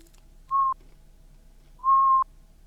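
A person whistles twice, imitating Death's whistle from Puss in Boots: two clear, steady tones, each lasting a fraction of a second, with a pause between them in an otherwise quiet room.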